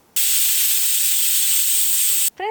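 A pressure cooker cooking sorghum ghughari lets out one loud, continuous steam whistle lasting about two seconds, then cuts off sharply, followed by a brief fainter squeal.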